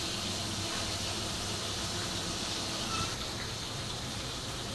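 Shrimp frying in oil in a home kitchen, giving a steady, dense, close sizzle with constant hiss throughout and no talk.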